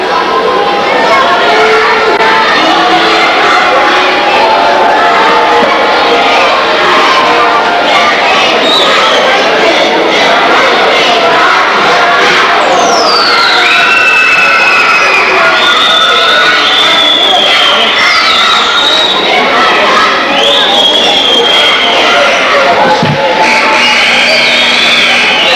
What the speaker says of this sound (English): Small gym doesn't take much to really fill this place up with noise.